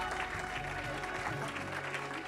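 A church congregation claps in steady, sustained applause that fills the room, with faint voices mixed in.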